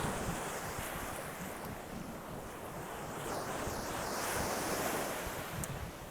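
Ocean surf rolls steadily onto a beach after rain, a continuous wash of breaking waves swelling and easing, with wind buffeting the microphone and no voices.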